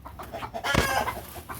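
A chicken gives a short squawking alarm call, a brief loud burst in the middle with softer clucks around it.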